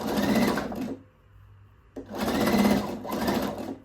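A sewing machine runs in two bursts of rapid stitching as elastic is sewn onto mesh shorts, with a short quiet pause between the runs, close and clear.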